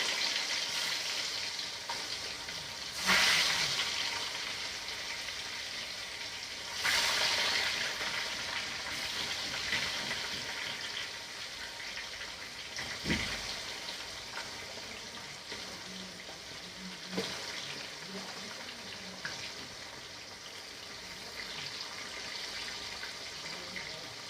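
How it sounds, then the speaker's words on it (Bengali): Crabs frying in hot oil in a home kitchen, a steady broad sizzle throughout with a few louder bursts of crackle when pieces shift or are stirred, no voices. "কাঁকড়গুলো ভেজে নিই তেল গরম হয়ে গেছে"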